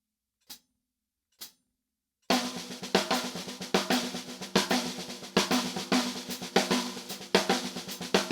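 After two lone sticks clicks, a drum kit plays a six-stroke roll as sixteenth-note triplets over steady quarter-note hi-hat, a loud, rolling pattern of close hits.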